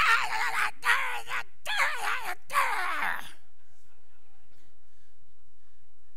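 A voice imitates someone yelling, four strained, wavering cries in quick succession, loud and close, then cutting off abruptly into silence.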